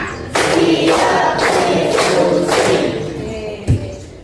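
A school class claps together on a teacher's count, giving loud, close, crowd-like bursts of clapping that come in a few rhythmic waves and then fade.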